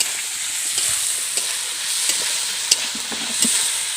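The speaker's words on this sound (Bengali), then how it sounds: "বন্ধুরা এই মুরগির ঠ্যাং, কলিজা, লিভার এবং মুরগির পাখনা এইগুলো কিন্তু একসাথে ভেজে" Chicken legs, liver and wings frying together in a pan produce a steady close hiss of sizzling oil with light crackles and occasional spatula clicks, with no talking.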